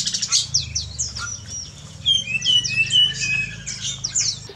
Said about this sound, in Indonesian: burung-burung kacamata atau burung pleci ini kalau lagi mandi